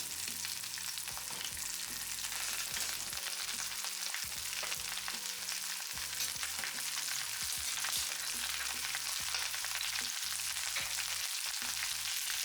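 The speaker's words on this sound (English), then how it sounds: "tilt the pan to make sure that the hot oil is underneath each of the steaks" Cauliflower steaks fry in a pan of hot oil with thyme and lemon zest, giving a steady, dense sizzle that runs without a break from start to finish, close and even in loudness.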